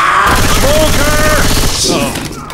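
Video game gunfire in Left 4 Dead 2, a dense, continuous volley of shots filling the whole stretch with a steady clatter, while players shout over it.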